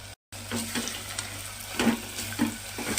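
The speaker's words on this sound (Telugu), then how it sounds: "ఈ మసాలాని కూడా యాడ్ చేసుకొని ఒక 2 మినిట్స్ వరకు మనము ఫ్రై చేసుకున్నాము" Mutton curry with coconut masala added to the pan, a thotakura (amaranth leaf) mutton curry, frying with a steady sizzle and a few louder stirring scrapes and clatters through the stretch, close and alone with no talk.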